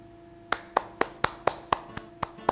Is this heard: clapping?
yes